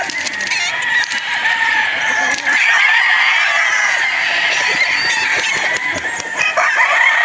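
Gamefowl stags, bullstags and cocks on a farm: several roosters crow loudly and overlap one another over continual clucking, with close and more distant birds throughout.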